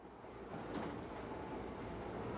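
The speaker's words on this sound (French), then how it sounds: "On prend ce premier train pour arriver à Mannheim, en Allemagne." A passenger train heading toward Mannheim, Germany, rumbles steadily as a continuous broadband roar from inside the carriage, with no voices.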